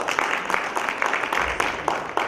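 Audience clapping for a singer at a Cameroonian diaspora entertainment program, a fairly quiet, even patter of many hands with a loose rhythmic pulse over a couple of seconds.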